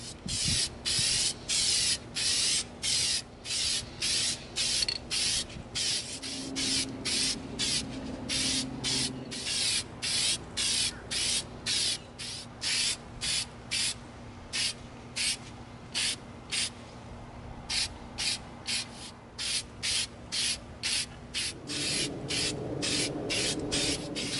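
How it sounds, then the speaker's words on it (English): A can of Plasti Dip rubber coating sprayed onto a prop proton pistol outdoors, heard as a long run of short, close hissing bursts in a steady, regular rhythm, with a few brief pauses and no talk. "We're going to begin coating our proton pistol with our Plastidip."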